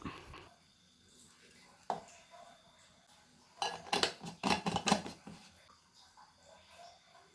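A spoon stirs a drink in a glass, a quick cluster of close, bright clinks and taps after a few isolated knocks, with quiet room sound around it.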